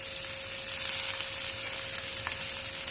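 Crushed ginger and garlic sizzle steadily in hot oil with bottle gourd for a dhaba-style lauki bharta, a continuous close frying hiss with faint stirring clinks and a constant hum underneath.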